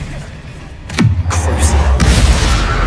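A Confringo explosive spell goes off in Hogwarts Legacy, a sudden booming blast with a falling whoosh followed by a rumbling tail and a second crack, as a voice calls out over it.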